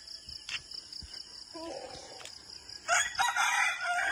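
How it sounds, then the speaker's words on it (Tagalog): Roosters crow in a rural Philippine village in the early morning, several calls overlapping at moderate distance with chickens clucking and faint insects, no talk. "Tilaok ng mga manok."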